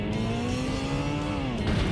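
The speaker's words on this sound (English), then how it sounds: "Rev her up then, brother." A car engine with a newly installed turbo revs steadily in the video game Garry's Mod, a loud sustained whine holding pitch with a slight rise and fall, heard alone.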